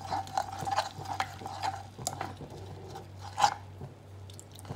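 Milk stirred into thick, melted butterscotch sauce in a pan on a gas stove. Soft, wet, sticky stirring strokes repeat steadily, close but faint, with no talk.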